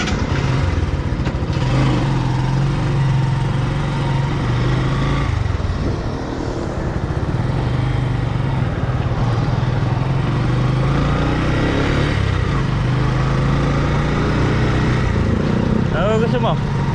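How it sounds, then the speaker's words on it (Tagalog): A gasoline grass cutter clears grass in a field planted with string beans, giving a continuous rough engine drone that stays close and loud for the whole stretch with little change in pitch. "Mag-grass cutter tayo sa tinataniman nating sitaw."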